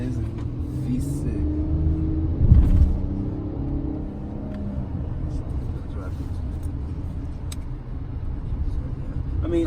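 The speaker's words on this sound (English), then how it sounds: "we're gonna take this for a nice little test ride and see how the 2020 Tele actually rides" Low rumbling cabin drone of a 2020 Kia Telluride EX V6 SUV on a test drive leaving a dealership, steady throughout with a brief bump around midway, under continuous talk.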